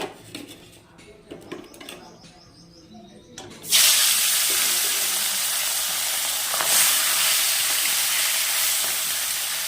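Poa fish is slid into hot oil, setting off a sudden loud, steady sizzle that keeps going after a few seconds of quiet kitchen clatter.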